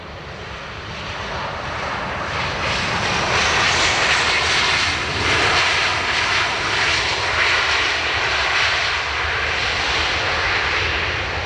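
A jet airliner at Dublin Airport roars loudly and steadily for several seconds, a broad sustained engine rumble and whine swelling slightly as it passes close, with no voices.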